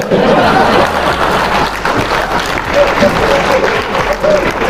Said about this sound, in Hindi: एक बार जोरदार तालियां हो जाए हम सब।